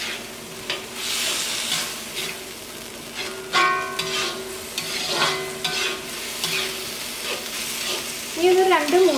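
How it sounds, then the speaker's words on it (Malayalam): Chicken stir-fried with onion and capsicum in a pan: crackling sizzle with repeated scraping and stirring strokes of a spatula, close and clear, with brief clatters. "ഇനി ഇതിലേക്ക് വറുത്ത് വെച്ചേക്കുന്ന ചിക്കൻ ചേർക്കാം"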